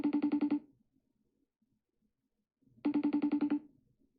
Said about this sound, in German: Ich rufe jetzt Hanna an.